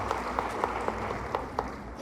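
A church congregation at a conference claps in praise, a scattered, moderately loud round of applause with a few distinct hand claps standing out over a diffuse crowd wash.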